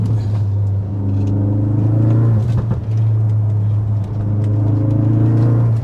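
A Ford Focus RS drives along with a loud, steady engine drone and low rumble from inside the cabin, holding an even tone with slight dips and surges in load.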